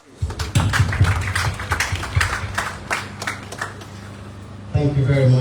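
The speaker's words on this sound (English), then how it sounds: "Big round of applause." An audience applauds at the commissioning of new wards 7 and 8 at Connaught Hospital, with a burst of brisk clapping over a few seconds before a voice starts speaking.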